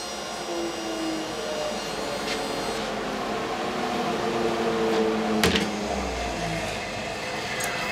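A table saw rips a long, floppy board held against the fence, giving a steady loud whine and blade roar throughout, with a brief knock near the end as the cut finishes.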